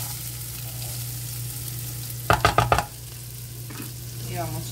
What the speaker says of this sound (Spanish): Ahora sí voy a revolver súper bien, ya se me estaba queriendo como pegar.